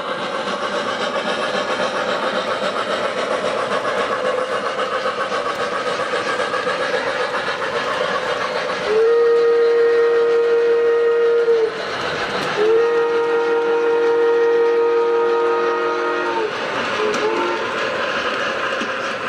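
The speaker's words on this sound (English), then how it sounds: "All the trains are operated by handheld remotes." O gauge model trains rumble steadily along a layout track, with two sustained horn blasts sounding midway, one after another, loud and close.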